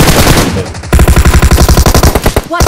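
Rapid automatic gunfire in PUBG Mobile, a loud close burst of evenly spaced shots that keeps up for about two seconds and then cuts off abruptly.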